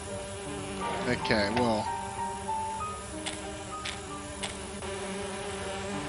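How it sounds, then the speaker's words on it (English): Bees buzz in a steady, droning hum in an Agatha Christie: And Then There Were None video game scene, with brief ticking clicks and a short burst of speech early on. "I need to subdue the bees first."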